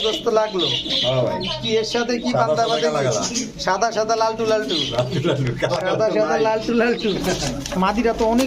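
Bombay and other pigeons coo and squawk loudly at a pigeon seller's farm, overlapping calls running throughout with people talking alongside.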